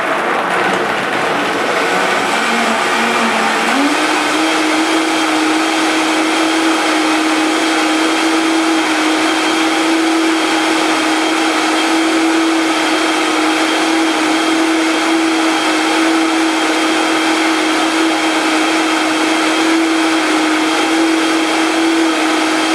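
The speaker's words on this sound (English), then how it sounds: "all we're going to do now is go ahead and blend" A blender whirs through nut milk, its loud roar rising in pitch over the first few seconds as the motor gets up to speed, then holding a steady high drone for the rest of the run with no voices.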